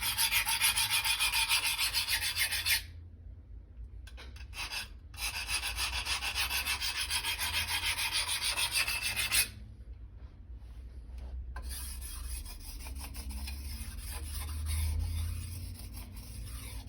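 A steel file rasps steadily against a blade edge during sharpening, a continuous close scraping broken by two short pauses, with no voices.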